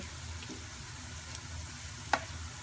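Garlic cooks in hot oil after the heat is switched off, a faint steady sizzle with a couple of small clicks from the pan, close and quiet with no talk.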